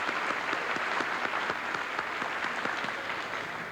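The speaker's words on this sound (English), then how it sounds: "let's give them another hand of applause" An audience applauds the Concord High School Marching Band after its performance, a steady sustained clapping that fills the whole stretch at a moderate level and tapers slightly toward the end.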